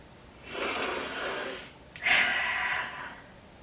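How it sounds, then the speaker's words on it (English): Two long, breathy nasal sniffs close to the microphone, one after another with a brief pause between them. "You guys also get to hear how many like sniffles I normally have to cut out."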